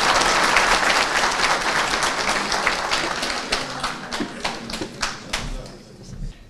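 A seated audience at a Yörük Türkmen workshop in Antalya applauds the arrival of the mayor at the podium, dense clapping that fades into separate, sparser claps toward the end.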